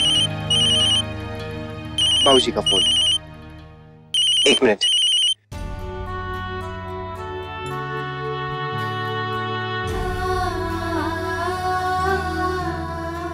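A phone ringtone plays in loud, repeating melodic bursts, broken by short pauses, then gives way to dramatic background music as a voice speaks briefly.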